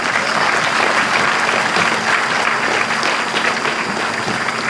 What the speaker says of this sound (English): Parents, kindly give them a big round of applause